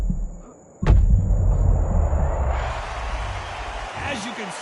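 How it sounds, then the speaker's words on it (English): A body shot lands in a boxing video game with a single sharp, heavy thud, followed by a sustained roar of crowd and arena noise with commentators talking. "that powerful body shot froze her in her tracks."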